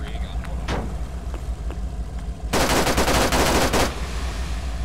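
Rear machine gun test-firing in the video game Arma 3, a loud sustained burst of rapid automatic fire lasting about a second and a half, with a few isolated shots before it and voices talking over the background.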